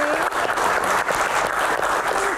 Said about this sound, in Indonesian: Tepuk tangan untuk rekan-rekan semuanya ada di sini.